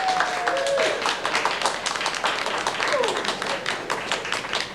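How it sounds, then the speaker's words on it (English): A live cinema audience at an SOV Fest screening in Huntsville, Alabama breaks into a steady round of clapping, many hands patting in a dense, even patter that holds for the whole stretch, with a few voices mixed in. "We give him a round of applause, please."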